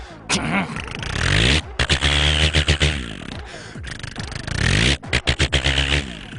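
A man mimics a tractor engine with his voice, producing a loud, close, chugging drone broken into rapid sputtering pulses toward the middle and end.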